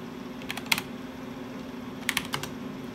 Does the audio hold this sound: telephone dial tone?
no